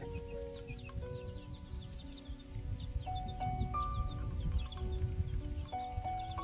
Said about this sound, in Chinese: 鸡群也感到雨水的到来，它们开始跟随鸡妈妈进入到鸡窝里躲雨。